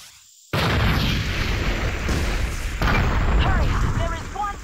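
A sudden loud grenade blast in the open-world action game Just Cause erupts after a brief quiet, followed by rumbling debris and further bursts, with a voice talking over it.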